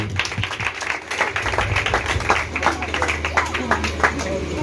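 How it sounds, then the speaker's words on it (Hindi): Clapping for the pastor at a church gathering, a continuous burst of hand claps from the congregation, moderately loud and close, with a low hum underneath. "पास साहब के लिए जोरदार ताली"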